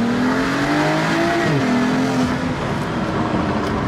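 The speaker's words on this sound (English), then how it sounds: "Then I'm gonna hold the brake and floor the throttle." A BMW 135i launches from a standstill after a brake-held full-throttle start, the engine revving hard and climbing in pitch as the car accelerates, loud and close with no talking.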